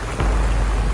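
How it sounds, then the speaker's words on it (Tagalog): Heavy rain pours down in Barangay San Jose ahead of an approaching typhoon, a loud, dense, continuous roar of falling water over about a second. "sobrang lakas po ng ulan"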